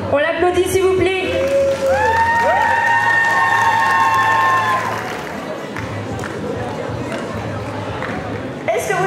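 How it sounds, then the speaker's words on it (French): Crowd applause and cheering from the audience at a Sunday cosplay contest at Japan Manga Wave in Rennes, with whoops and shouts rising over steady clapping, then fading to lighter applause and babble. "On l'applaudit s'il vous plaît."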